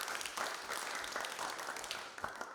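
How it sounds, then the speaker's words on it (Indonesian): Applause from the audience at an open doctoral examination, a faint, dense, continuous patter of many hands filling the moment with no voices on top. "Ini tepuk tangan buat kita semua"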